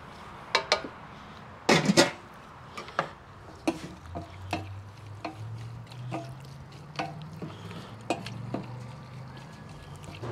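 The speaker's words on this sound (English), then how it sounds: "Now I'm just gonna kind of mix it all up together." Beef shank is stirred in a pot with broth, onions and garlic: scattered clinks of a utensil against the pot, soft liquid stirring and a low bubbling simmer throughout, with no talk.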